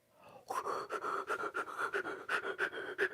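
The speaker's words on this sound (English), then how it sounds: "It's just like I'm kind of like breathing in and out through my mouth" A person breathes rhythmically in and out through the mouth, producing a steady series of close, evenly spaced panting breaths.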